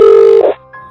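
A telephone sounds once for an incoming call, a single loud steady electronic tone lasting about half a second before it changes pitch and fades into a softer tone.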